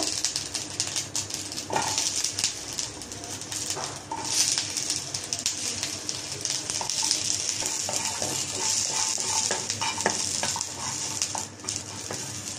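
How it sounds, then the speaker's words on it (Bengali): Green chilies and garlic fry in hot oil for shuttki bharta, a steady sizzle with occasional stirring scrapes running throughout, fairly close and without talk. "আমি শুটকি ভর্তার জন্য কাঁচামরিচ ভেজে নিব। সাথে রসুন দিয়ে দিব।"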